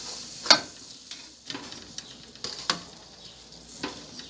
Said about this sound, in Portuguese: Então vamos colocar dentro da panela o coco.